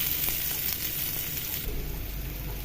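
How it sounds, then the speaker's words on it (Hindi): Chopped onions going into hot oil with cumin seeds, giving a steady dense sizzle and crackle close by that shifts slightly as they land, with no talk. "जीरा तड़क गया, अब इसमें प्याज डाल देते हैं।"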